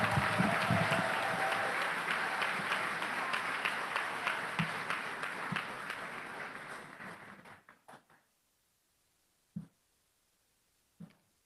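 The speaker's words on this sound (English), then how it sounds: "A round of applause for associate degree candidates." An audience at the UCCI 2024 commencement ceremony applauds associate degree candidates with sustained clapping that gradually thins and fades out around eight seconds, followed by two isolated soft knocks in near silence.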